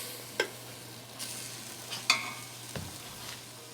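Chicken pieces cook in a pot for Chinese-style noodles, with a low continuous sizzle under a few sharp clinks and scrapes from stirring, close by and moderately quiet, no voice.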